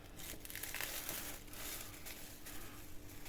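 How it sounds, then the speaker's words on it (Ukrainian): Close, quiet crinkling and ripping of a vacuum-sealed plastic bag torn open at its heat seal, a few sharper tearing bursts amid continuous rustling. "От я розірвала на місці запайки."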